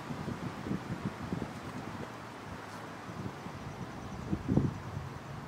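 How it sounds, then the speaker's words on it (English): Outdoor wind gusts buffet the microphone in uneven, rumbling bursts while a small foldable selfie drone waits to fly, with no voices. "wait for the wind to stop."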